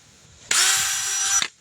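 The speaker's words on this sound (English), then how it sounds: "any of them that are big enough for my whole drill bit to fit, I go ahead and drill them" A power drill bores a hole into plastic in one loud, steady whine lasting about a second, starting and stopping abruptly, with no voices.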